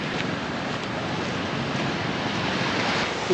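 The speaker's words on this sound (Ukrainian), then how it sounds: "Сьогодні вже краща погода, море гарніше, приплив." Sea waves at high tide wash in continuously on a Thai coast, a steady broadband surf roar with some wind buffeting on the microphone, near and fairly loud with no voices.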